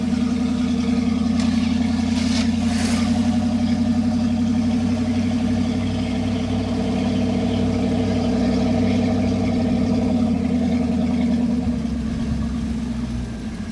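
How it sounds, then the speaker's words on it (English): Hot rod cars roll in at an Auckland Hot Rod Club poker run, with a loud, steady engine rumble and idling drone close by. A brief higher rush passes early on, but no distinct revving stands out. "watching the cars roll in at the Auckland Hot Rod Club's poker run"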